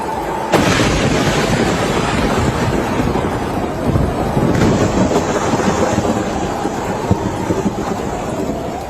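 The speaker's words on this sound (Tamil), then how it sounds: "உத்தராகண்டின் டேராடூனில் மேக வெடிப்பால் வானத்திலிருந்து அருவி போல் மழைநீர் கொட்டியது." Torrential cloudburst rain in Dehradun, Uttarakhand, a dense, loud, unbroken roar of pouring water with a heavy rumbling thump near the start and steady pounding throughout.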